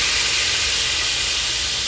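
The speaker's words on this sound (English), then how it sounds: "Now let's take our brandy, sherry, cognac, whichever you're using, and scrape the bottom." Brandy poured into a hot pan to deglaze it for steak au poivre, a loud, continuous hissing sizzle of steam, close and steady with no talking.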